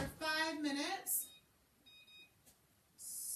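Kitchen timer being set while cooking crispy chicken thighs, giving a few short high beeps spaced apart after a person speaks, fairly quiet in a room.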